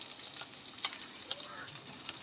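Mustard seeds sizzling in hot oil, already used to fry tomato and onion, for tempering a Goan fish curry; a steady bright hiss with scattered small pops and crackles, close and moderately loud.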